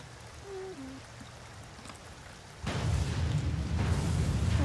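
Rain falls in The Sims 2 as a steady broadband hiss that swells noticeably louder and denser partway through.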